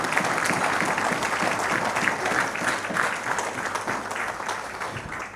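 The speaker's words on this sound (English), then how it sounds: "give them now a better, stronger round of applause." A banquet audience gives a loud, sustained round of applause, dense clapping filling the room steadily from start to finish.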